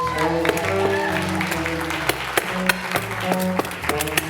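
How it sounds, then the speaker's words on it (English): A live variety-show audience claps steadily for a performer who has just smashed a bottle, a dense wash of applause over background music, with a few louder claps near the front. "A nice round of applause, Kevin Joyce."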